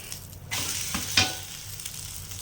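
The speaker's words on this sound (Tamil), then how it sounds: "ஆம்லேட் போட்டிருக்கிறோம் பாருங்கள்" Egg omelette frying in oil in a pan, shop style, giving a steady close sizzle throughout with a brief scrape or spatter burst near the middle.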